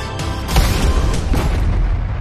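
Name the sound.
rockets being fired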